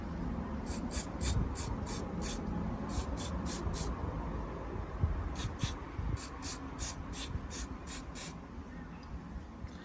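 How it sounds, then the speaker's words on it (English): Aerosol cleaner hisses onto a Porsche Boxster 986 mass air flow sensor in a rapid series of short, sharp bursts, close and crisp over a quiet rustling background. "and just give it a little spray"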